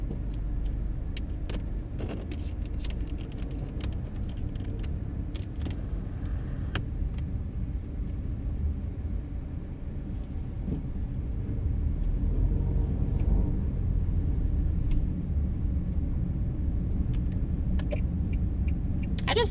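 Steady road rumble from a car driving through Mandeville town, a continuous low engine and tyre drone with small rattles and clicks from inside the cabin, swelling slightly in the second half.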